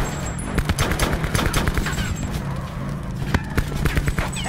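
Rapid bursts of gunfire crackle through a shooter video game match, loud, dense volleys of shots with a few sharper single cracks near the end.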